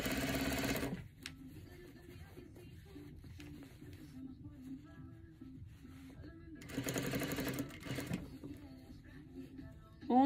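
Sewing machine stitching a narrow double hem on a shirt sleeve with a size 14 needle at 2.5 stitch length, a steady mechanical whir running throughout with a louder burst near the end.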